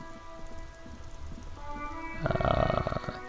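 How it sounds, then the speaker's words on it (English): Rain patters and hisses against a surface amid a low rumble, swelling louder near the end of the short stretch, in the video game Disco Elysium. "It's raining again."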